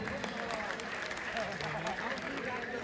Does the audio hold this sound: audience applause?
yes